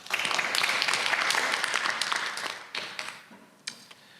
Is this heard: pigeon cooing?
no